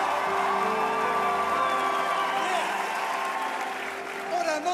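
Sustained applause and cheering from a church audience at a Saturday evening service, a dense loud wash of clapping with whoops and crowd voices mixed in throughout.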